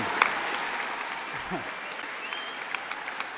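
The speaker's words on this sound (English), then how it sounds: "I take it that applause was for Bill Shankly." A crowd applauds steadily at a socialist political rally, continuous mid-distance clapping with a few sharper claps standing out and faint voices underneath.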